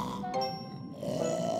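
A cartoon elephant seal, very large with a big nose and shedding skin, snores in the water, giving deep rumbling grunts that rise and fall in a steady breathing rhythm, close and fairly loud.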